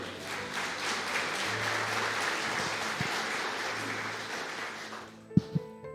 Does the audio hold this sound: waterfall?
no